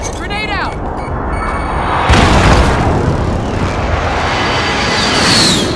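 A grenade detonates in a video game firefight, a loud booming blast with a rumbling tail, preceded by a brief whistling sweep, with game voices around it.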